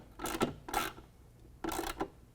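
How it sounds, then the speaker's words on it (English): A 13mm ratchet clicks in three short bursts as it tightens a running board bolt on a Jeep Gladiator during installation, close and crisp with pauses between strokes. "I'm going to use my ratchet. This is the 13mm ratchet I've been using."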